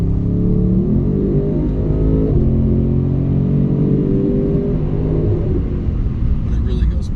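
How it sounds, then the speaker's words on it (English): A 2019 BMW M850i Convertible in sport mode gives a deep, loud exhaust rumble that rises and settles through revs, heard from inside the moving car. "even in any of the comfort modes, the exhaust is obviously still really vocal"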